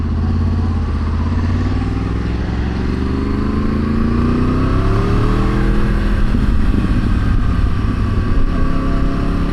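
A Yamaha R1 sportbike rides through freezing weather around -1°C, its engine droning loud and steady with rising and falling rev sweeps and constant wind rush, close and continuous.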